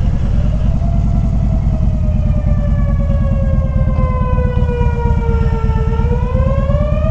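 A loud, continuous outdoor tornado warning siren wails steadily during a test, its tone slowly falling and then rising again over a constant low rumble.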